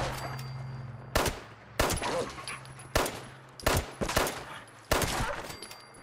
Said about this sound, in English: You've got to get a couple of shots in.